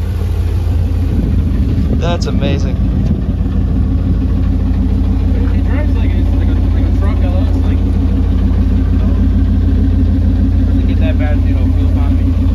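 A Honda S2000 with an LS engine swap, turbocharger, T56 gearbox and side-exit exhaust runs with a steady, loud low rumble throughout, while people talk over it.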